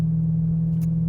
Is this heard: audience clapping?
no